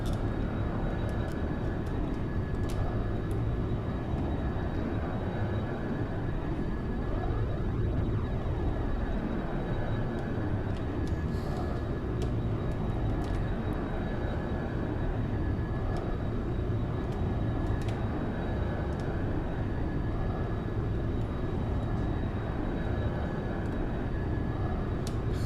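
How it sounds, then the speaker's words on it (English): Jet afterburners roar steadily in the X-Plane 11 flight simulator during a storm over Barbados, a loud, continuous engine rumble with a rising whine sweeping through around the middle, no voices present. "There we go, there's the afterburners on."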